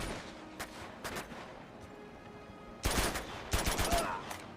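Gunfire in the video game Uncharted 2: Among Thieves, with scattered single shots early and then louder bursts of rapid fire over a steady game background.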